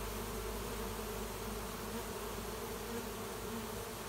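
A late-season honey bee swarm fills the air with a dense, steady buzzing hum, loud and close, unbroken throughout.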